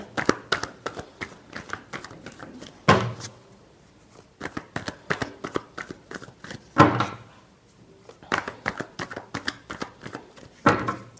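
Tarot cards shuffled by hand during a reading, with three rounds of rapid papery riffling and flicking, each ending in a louder slap as the deck is squared, then brief pauses between rounds; soft and close.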